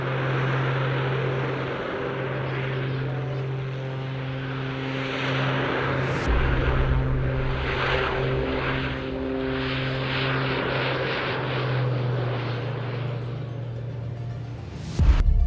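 A propeller-driven warbird flies an airshow display, its engine a steady, moderately distant drone holding throughout with slight rises and falls as it passes.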